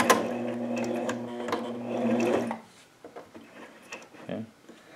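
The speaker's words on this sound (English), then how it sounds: "Needle all the way in, foot back up, and across the top, foot back down, hit the edge, reverse and do the locking stitch." Sewing machine stitching rank and nametape onto a patrol cap whirs close and steadily for about two and a half seconds, then stops, followed by faint clicks and handling sounds of the fabric.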